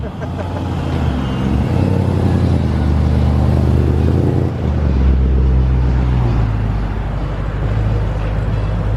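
A Honda S2000 engine running, a loud low rumbling drone that deepens partway through, with a voice talking over it.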